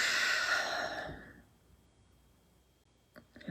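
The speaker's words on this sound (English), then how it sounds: "Take a deep breath in, deep breath out." One deep breath, heard as a loud, airy exhale at the start that fades over about a second, then near silence with small clicks.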